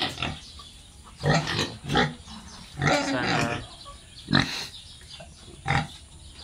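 Native pigs on a small backyard farm grunt and squeal in several loud, close bursts spread over a few seconds of quiet pen noise, with a brief spoken word in between.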